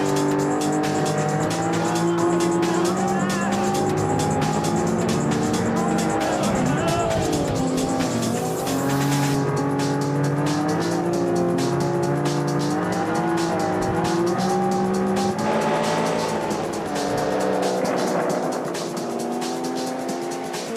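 A race car engine in the BeamNG driving game revs and shifts through gears at high pitch, with tire squeal and skidding on the track and a voice talking over it.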